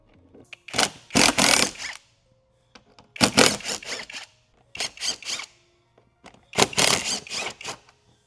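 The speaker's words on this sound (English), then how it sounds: "with a T30, I'm going to remove these four screws." A T30 driver backing screws out of a vehicle tire carrier, giving four separate bursts of whirring, ratcheting mechanical noise with short quiet gaps between them, close and clear with no talking.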